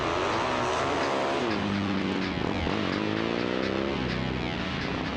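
Motorcycles rev hard during a road trip in Los Angeles, their loud, continuous engine roar rising and falling in pitch without a break and with no voices.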